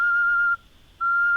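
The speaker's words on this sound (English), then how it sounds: "So the whistle already worked." A clay whistle gives two clear, steady high tones, the first held about half a second, then a short pause before the second.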